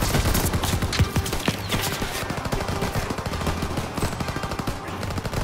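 Machine-gun fire in Call of Duty WWII, a WWII battlefield: rapid, loud bursts of automatic gunfire repeating in quick rhythmic volleys throughout, with scattered extra shots mixed in.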